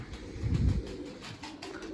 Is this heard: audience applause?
no